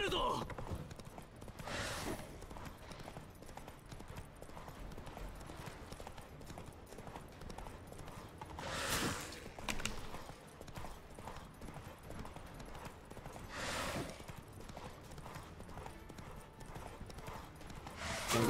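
Horse hooves gallop in The Witcher 3, a steady clip-clop rhythm running throughout at moderate loudness, with a few brief louder swells and faint speech underneath.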